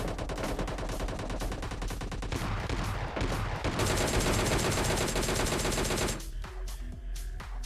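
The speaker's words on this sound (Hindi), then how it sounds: "चारों तरफ से जो फायरिंग आ रही थी" Dense gunfire from all sides during a PUBG Lite match: loud, rapid automatic bursts and overlapping shots crackle almost nonstop, easing into scattered, sparser reports near the end.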